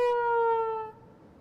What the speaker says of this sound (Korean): 오, 갑자기 웬 사이렌 소리죠?